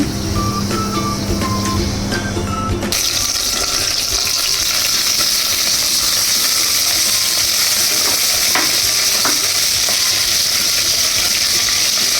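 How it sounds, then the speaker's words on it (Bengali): Oil sizzles loudly in a frying pan while dried-fish mash is being made, a quieter, clinking start giving way after a few seconds to a steady, close, crackling hiss that carries on unbroken with no talk. "ফ্রাই প্যানে একটু তেল দিয়ে দিচ্ছি।"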